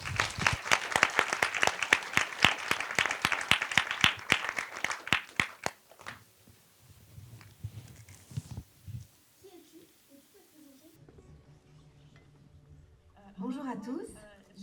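An audience at a youth engagement talk applauds a speaker, brisk dense clapping for about six seconds that fades out, followed by quiet room noise and a voice beginning to speak.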